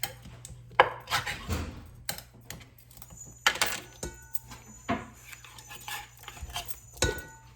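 Canned chili beans from Aldi being emptied into an Instant Pot, heard as close, sharp metallic clinks and taps of the can and utensil against the pot, in scattered bursts with quieter gaps.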